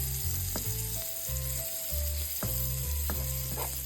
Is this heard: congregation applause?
no